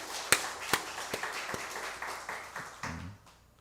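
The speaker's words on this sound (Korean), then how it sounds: "다시 한번 박수" Church congregation applauding, a handful of loose, scattered claps that thin out over a few seconds, fairly quiet and roomy, no one speaking.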